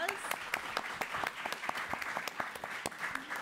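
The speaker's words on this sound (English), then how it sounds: "So let's give them a big round of applause." An audience at an entertainment-industry panel event bursts into steady applause, many hands clapping in a dense patter at moderate loudness, with some voices mixed in.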